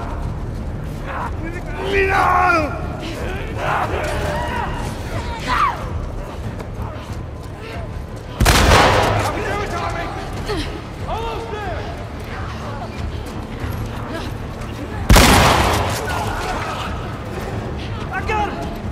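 Gunfire in The Last of Us Part II, two sharp, loud shots standing out several seconds apart over rumbling ambience while voices shout between them.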